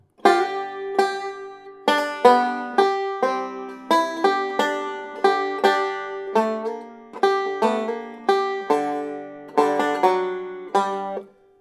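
Bright plucked banjo notes in a somewhat halting, uneven rhythm, like a player working slowly through a tune, close and clear with no talking.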